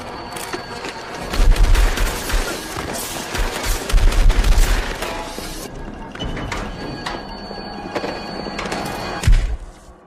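Gunfire in a drama as a witness under police protection is shot: loud, close bursts of shots in two clusters, then a final sharp blast near the end, over a busy background.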